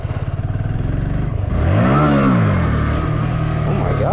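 A motorcycle idles with a steady chug, then revs up with a rising and falling engine whine in second gear, loud and close, with clattering mechanical noise.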